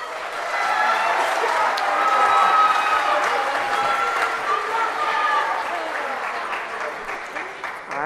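An audience applauds a middle school jazz band at an evening concert, sustained clapping and crowd noise filling the room for several seconds at a steady, fairly loud level.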